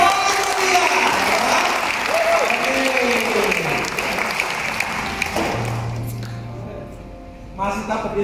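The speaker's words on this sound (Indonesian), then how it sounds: "kita berikan aplaus, tepuk tangan yang paling setia" A church congregation at a reunion gathering applauds, loud clapping that fades out midway, followed by quieter murmuring voices and a few thuds and taps.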